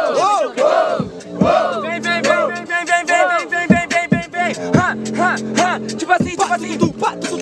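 A crowd at a Brazilian student rap battle, the Batalha dos Estudantes semifinal, shouts and chants loudly in rhythmic bursts. The voices are close and energetic, with individual cries rising above the mass.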